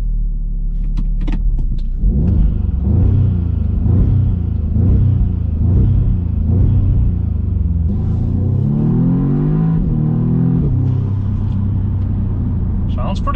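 An Audi S3 fitted with a Pipercross air intake revs repeatedly, a loud close engine rising and falling in short pulses with a deep intake roar, and the revs sweep up higher near the end.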